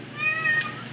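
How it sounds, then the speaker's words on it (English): A house cat lets out a single drawn-out meow, loud and close, rising then trailing off within a second. "Glenn, do you have to be so noisy? Is that necessary? Noisiest cat I've ever seen"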